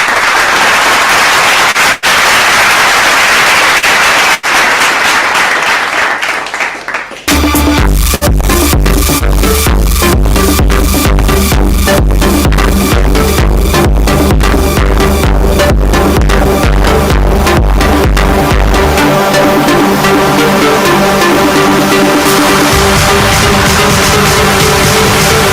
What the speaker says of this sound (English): Let's continue with our applause for them.